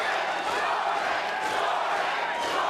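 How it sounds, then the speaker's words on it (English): Arena crowd roaring and cheering during a heavyweight championship cage fight, a loud, dense, continuous wall of voices with shouts rising and falling. "And you can hear the crowd, man."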